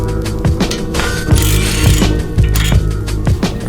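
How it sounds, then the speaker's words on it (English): Ratchet loosening two lower 17mm bolts from a steering knuckle on a Lexus IS300 during a BC Racing BR Series coilover install, rapid close mechanical clicking in repeated strokes with regular heavier clunks about every half second. "we're going to drop these 2 lower 17mm bolts to take the steering knuckle off of the spindle"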